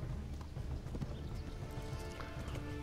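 Horse galloping in the medieval video game Kingdom Come: Deliverance, a steady clip-clop of hooves under a dense, continuous game soundscape during a chase.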